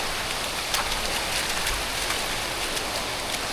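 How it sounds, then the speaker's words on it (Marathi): Steady rain pours down at a scenic hillside viewpoint near a hidden waterfall in Murbad, a dense, even hiss of drops on surfaces that stays loud and continuous throughout, with no voices. "हो, पाऊस पण आला"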